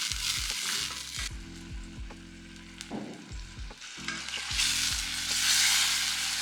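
Jerk chicken marinade sizzling and bubbling as its excess liquid cooks off in a pan, a loud close hiss that swells in bursts alongside stirring, with no talking.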